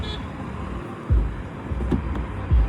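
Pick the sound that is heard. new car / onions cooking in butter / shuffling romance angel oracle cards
new car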